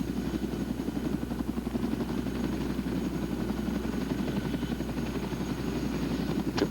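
CH-47 helicopter settled on the ground with rotors still turning, a loud continuous low rotor throb and engine drone steady throughout, with no voices.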